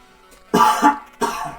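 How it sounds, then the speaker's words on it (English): Two coughs close to the microphone, a heavy double-pulsed cough followed after a short pause by a second, shorter one, with near silence before them. "Sorry, just had to cough off camera."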